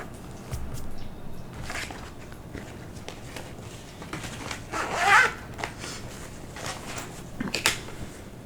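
A zipper runs along a handmade bag with a custom-made pull, giving a short, close rasping zip with a few soft rustles and handling sounds before and after, with no talking.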